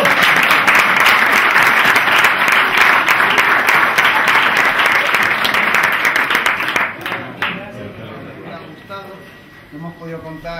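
A crowd at a sports club Christmas meeting gives loud, sustained applause that fades out after about seven seconds, followed by people talking in the room.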